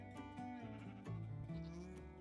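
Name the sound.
screaming goats bleating in Minecraft, a video game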